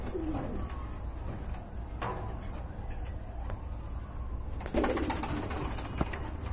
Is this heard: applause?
no